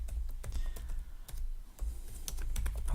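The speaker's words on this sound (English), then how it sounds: "So we could just type some code in here," Rapid keystrokes on a computer keyboard as code is typed into a PlayBASIC editor, an irregular run of close, crisp clicks with brief pauses and no talking.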